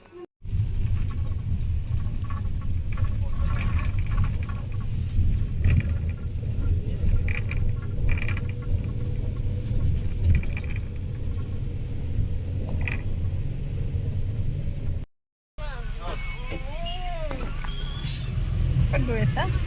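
Inside a car driving in rain near Guwahati, a steady low engine and road rumble fills the cabin, with a brief cut partway through and people talking quietly over it.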